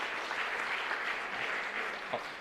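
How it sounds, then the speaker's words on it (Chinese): Congregation at a Sunday church service claps in welcome, a soft, steady wash of applause heard from a distance for a couple of seconds. "我们一起也拍手欢迎她，欢迎你。"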